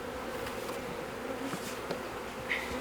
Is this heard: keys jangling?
no